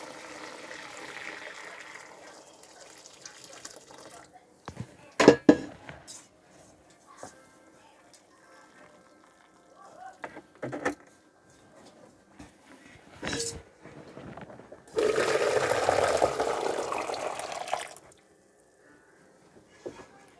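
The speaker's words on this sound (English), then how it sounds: "So I've poured all of my apples and all of my cider out of there." Apples and homemade cider are poured through a strainer. The liquid splashes and trickles in short bursts, with a longer steady pour near the end and a few clunks between.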